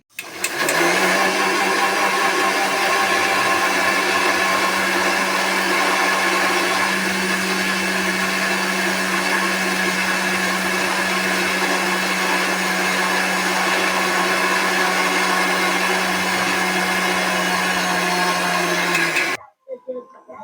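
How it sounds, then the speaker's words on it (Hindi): Kitchen mixer grinder whirring continuously as it grinds roti with milk into a fine paste, a loud steady motor drone that runs unbroken for about nineteen seconds before cutting off abruptly. "तो देखिए पूरा महीन कर लिए हैं रोटी को पीस कर"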